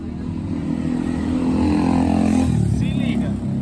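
A Kasinski Comet GTR250 motorcycle riding along with a steady engine drone and a repeating noise from a screw lodged in the tire, continuous and fairly loud, with someone talking over it.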